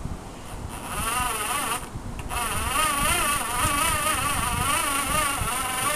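An old drill motor spun by hand to generate USB power gives a steady, close, whining motor hum with a wavering pitch, briefly dipping near the start and then running on continuously without speech.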